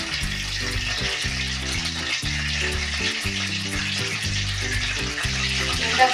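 Oil poured into a wet kadai crackles and sizzles steadily as water hits the fat, a dense, continuous frying hiss heard close up for several seconds with no talking.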